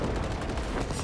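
Gunfire at an enemy in Cyberpunk 2077: a dense, continuous rattle of shots with a heavy low rumble, close and steady across a brief moment, no talk over it.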